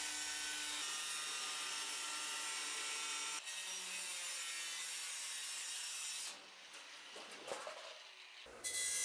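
Hand sawing through material for a dust collector cone, heard as a continuous, close, rasping stroke-by-stroke scrape whose tone shifts partway through before the sawing briefly eases near the end, with no talking.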